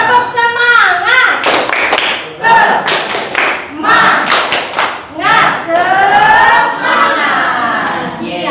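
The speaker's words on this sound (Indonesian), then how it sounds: "ibu ingin kalian tepuk semangat dahulu" Schoolchildren in a biology class perform the rhythmic "tepuk semangat" clapping routine, sharp patterned hand claps in bursts alternating with chanted voices of the teacher and class, loud and close.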